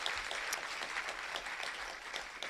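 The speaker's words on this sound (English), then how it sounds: "Clap for your accomplishments." Applause rings out at a high school senior athletic awards ceremony, a steady patter of many hands clapping in a large room, fairly faint and continuous.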